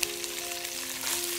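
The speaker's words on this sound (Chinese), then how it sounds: "放入油、姜末、蒜末爆香，倒入虾壳翻炒" Shrimp shells stir-frying in a hot wok with oil, minced ginger and garlic for a shrimp soup: a steady, dense sizzle and crackle of frying throughout, close and loud, with no talking.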